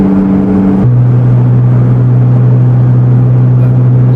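A Corvette C8 Z06 fitted with a brand-new exhaust drones loudly and steadily, its engine pitch dropping as the throttle eases, with a continuous close rumble and no distinct pops standing out.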